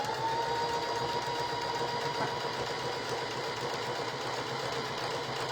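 A sewing machine runs steadily, stitching a row of fabric for a rustic primitive barrel banner, its even mechanical whir close and continuous with no talking.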